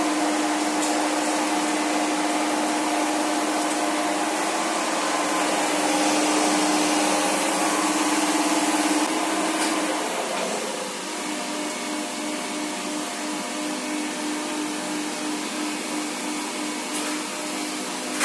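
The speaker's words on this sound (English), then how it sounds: "And here is your lift motor room." Old Thames Valley lift motor running in a tower block motor room, one machine on, a loud steady mechanical hum and whirr whose pitch shifts partway through, continuing without speech.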